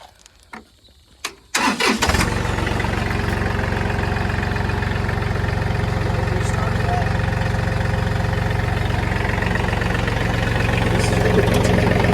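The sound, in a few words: John Deere 3032e tractor engine started and idling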